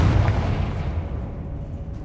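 A Confringo fire-blast spell explodes in Hogwarts Legacy, a dense low rumbling boom that rolls out and slowly decays over about two seconds.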